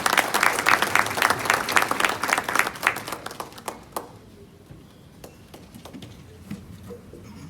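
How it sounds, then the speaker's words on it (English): An audience at a Zimbabwe finance event applauds Finance Minister Mthuli Ncube after his talk on the return of the Zim dollar: dense, loud crowd clapping for about four seconds, then thinning to a few scattered claps. "Another big round of applause for the Honourable Minister of Finance and Economic Development, Professor Mthuli Ncube"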